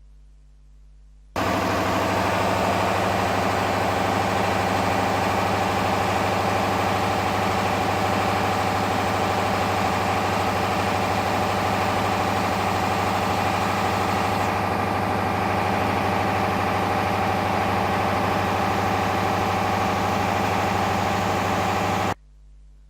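A laboratory internal combustion test engine runs at a steady idle for about twenty seconds during a heat balance test, a constant droning hum with a strong low harmonic whine, starting and stopping abruptly.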